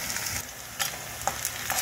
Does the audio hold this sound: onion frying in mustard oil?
yes